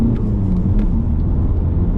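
A Volkswagen Golf 4 three-door car engine, with 351,000 km on it, rumbles loudly and continuously at close range, a deep steady drone with no voices.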